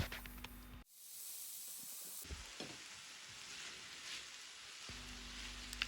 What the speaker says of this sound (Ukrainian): Кабачок також додаємо до курячого філе. Все обсмажуємо разом.